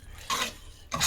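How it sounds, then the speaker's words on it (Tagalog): Spaghetti macaroni is stirred through an overly generous amount of sauce, giving two short scraping rubs of a utensil against the pot separated by a quieter pause. "Halu-haluin mo lang siya."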